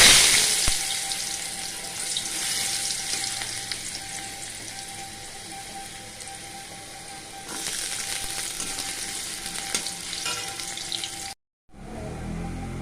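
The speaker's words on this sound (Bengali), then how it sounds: "আমি এবার ওই তেলের মধ্যেই দিয়ে দিচ্ছি আলু কুচানো আর সেই গাজর" Chopped potato and carrot fry in hot oil for a spicy semolina dish, giving a steady, loud hiss that swells slightly midway. The sizzle drops out briefly near the end and then returns, with no talking.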